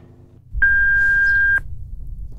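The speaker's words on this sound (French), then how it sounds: "Veuillez laisser votre message après le bip." A single steady voicemail beep sounds, one clean tone lasting about a second over faint background hiss.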